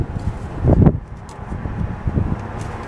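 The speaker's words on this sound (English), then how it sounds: "Windy, so freaking windy, I can't even hold on to my equipment." Gusty wind buffets a microphone outdoors during a van repaint, with a loud low rumbling burst near the start and steadier blustery rumble afterward, no talking.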